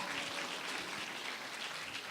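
A congregation at a Korean church youth gathering claps to welcome a member to the front, a soft and steady wash of applause from a moderately distant crowd, with no voices over it.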